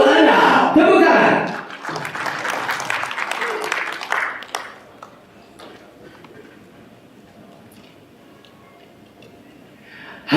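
Clapping from the audience at the IMI South Sumatra awards ceremony swells loudly at first with some crowd noise, then fades into quieter scattered claps and room sound.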